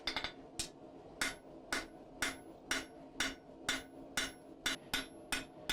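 A blacksmith beats hot steel with a peen hammer in a steady rhythm of about a dozen sharp ringing strikes, close and clear, with no talk.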